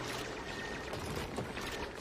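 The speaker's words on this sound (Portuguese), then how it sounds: "ele jogou água no chão aqui." Water splashing onto the floor in the video game Oxygen Not Included, heard as a brief, steady rushing pour with no voices over it.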